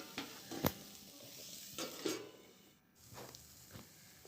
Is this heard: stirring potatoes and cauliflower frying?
yes